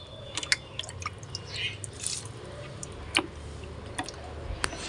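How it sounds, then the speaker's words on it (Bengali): Water drips and splashes from watering potted plants, scattered irregular plinks and ticks over a steady damp hiss, close by with no one speaking. "হয়ে গেল গাছে জল দেওয়া।"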